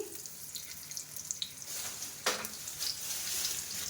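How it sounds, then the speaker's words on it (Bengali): Cubes of paneer tip all at once into hot butter in a wok and sizzle steadily nearby, with a few scraping clicks and a brief louder burst partway through. No voices. "কড়াইতে বাটার পনিরগুলো দিয়ে দিলাম একবারে সব দিয়ে"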